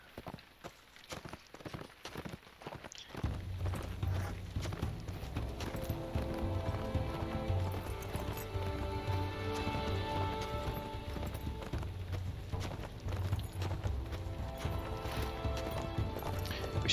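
A regular riding horse's hooves clop rhythmically in the video game Lord of the Rings Online, a few sparse steps at first, then a steady, continuous gallop under game music for the rest.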